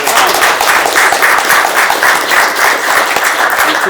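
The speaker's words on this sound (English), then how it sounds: "So let's give a round of applause to the panelists." A loud, sustained round of applause from an audience for panelists at a discussion on remote work, many hands clapping together in a dense, pulsing wash with no talk.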